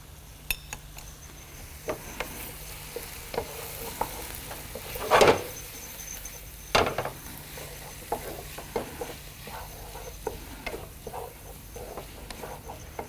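Meat and vegetables fry in a pan with soy sauce and Maggi sauce, a steady sizzle under repeated scrapes and clinks of a spoon against the pan, with a couple of louder scrapes partway through.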